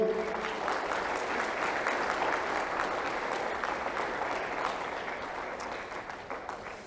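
A congregation in church applauds loudly for the Lord, a dense, sustained roar of many hands clapping that holds steady for several seconds before easing slightly near the end.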